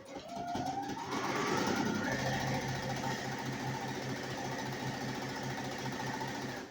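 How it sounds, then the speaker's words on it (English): A sewing machine runs steadily, stitching down both sides of a quilt seam with a quarter-inch presser foot, its fast mechanical whir loud and close and continuing without talk for several seconds. "So I'm going to sew down both sides."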